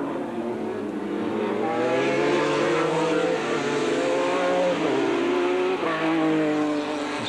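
A 1990 Formula Holden race car at the Mallala circuit, its engine wailing steadily and loudly at high revs while it runs down the straight, with pitch shifting through gear changes.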